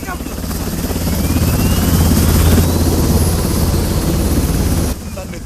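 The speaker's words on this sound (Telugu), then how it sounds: "ఇంతలో పెద్ద గాలి, పెద్ద సౌండ్. Sir helicopter." A helicopter arriving in a movie action scene, a loud steady rotor and engine roar with strong wind rushing, holding close and heavy throughout before dropping off slightly near the end.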